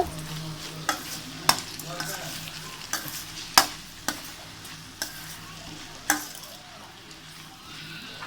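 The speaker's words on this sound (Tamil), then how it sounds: "அதையும் போட்டுட்டு நல்லா அந்த எண்ணெயில் வதங்க விடுங்க" Mint and coriander leaves sauté in hot oil for a salna, giving a low continuous sizzle punctuated by periodic sharp knocks and scrapes of a ladle stirring in the pan.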